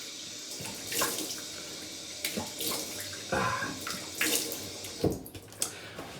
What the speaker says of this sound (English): I'm going to put some cold water on my face.